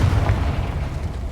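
A Confringo blasting spell explodes in the Hogwarts Legacy video game, a deep rumbling boom that stays loud and heavy for over a second with no voice over it.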